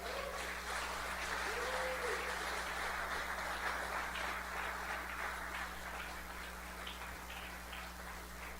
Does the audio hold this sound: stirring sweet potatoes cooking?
no